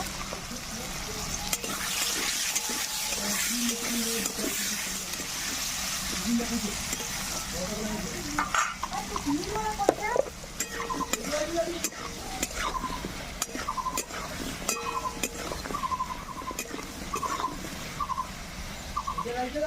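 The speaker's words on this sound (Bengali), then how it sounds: "তো আলুটা আমার ভাজা হয়ে গেছে" Steady oil sizzle of frying potatoes fills the clip, punctuated by repeated scrapes and clinks of a spatula stirring in the pan.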